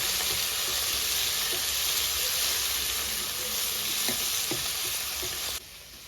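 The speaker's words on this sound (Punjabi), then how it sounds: "ਹੁਣ ਆਪਾਂ ਕੱਟੇ ਹੋਏ ਟਮਾਟਰ ਤੇ ਹਰੀਆਂ ਮਿਰਚਾਂ ਇਹਦੇ ਵਿੱਚ ਹੀ ਪਾ ਹੁਣ ਇਹਨੂੰ ਵਧੀਆ ਤਰੀਕੇ ਨਾਲ ਆਪਾਂ ਭੁੰਨ ਲਾਂਗੇ" Chopped tomatoes and green chillies fry in onion masala in a pan, giving a steady close sizzle with occasional stirring clicks; the sizzle drops slightly near the end. No talking.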